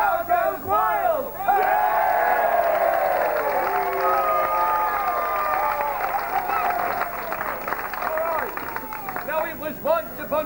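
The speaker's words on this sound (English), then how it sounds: "and the crowd goes wild" An audience cheers wildly and screams at a staged Romeo and Juliet performance. Loud overlapping shrieks and whoops swell quickly and hold, mixed with clapping, then slowly fade as clapping continues.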